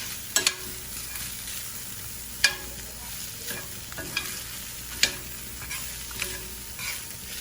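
Beef stir frying in a pan, a continuous close sizzle broken by sharp utensil clacks and scrapes against the pan every second or so, with no talking.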